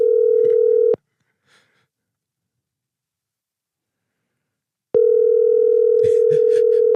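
A phone ringing out during an outgoing call: two long, loud steady ringback tones separated by about four seconds of silence, with faint background noise over the second tone.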